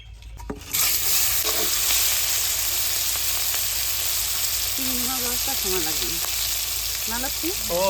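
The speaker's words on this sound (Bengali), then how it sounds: "বড় বাটা ছোট বাটা ভেজে নিয়েছি এবার গোয়ালদা চিংড়িগুলো ভেজে" Golda prawns frying in a pan after smaller fish, a steady loud sizzle starting abruptly and continuing, with a voice speaking intermittently over it.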